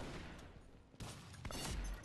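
Quiet bursts of rapid gunfire crackle from Pixel Gun 3D, with a few sharp close-range shots in quick succession at low volume.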